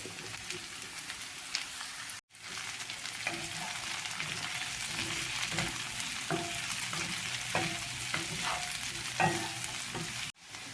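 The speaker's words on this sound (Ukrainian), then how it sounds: "До цибулі я додаю кабачок і смажу його до готовності." Diced zucchini and onion fry in a pan with a constant sizzling hiss and repeated light scrapes and taps of stirring, broken by two brief cuts.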